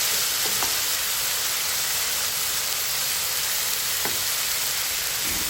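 Drumstick leaves are stirred into spice masala in a pan, giving a steady, fairly loud sizzling hiss with a few faint scrapes and no voices.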